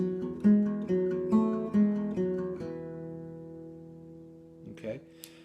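Capoed acoustic guitar plucking the intro of a song: a handful of picked notes with a bass note underneath, ringing out and fading, followed by a brief strum or handling noise near the end.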